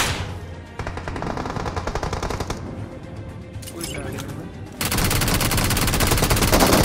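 Gunfire in a multiplayer battle-royale shooter played from a streamer's view, rapid automatic bursts rattling in dense strings, pausing briefly, then returning louder and heavier toward the end.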